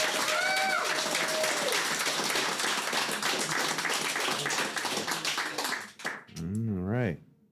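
Crowd applause at a Classic Tetris World Championship 2024 regional tournament in Montreal: loud, dense clapping for about six seconds, then a voice speaks briefly as it fades.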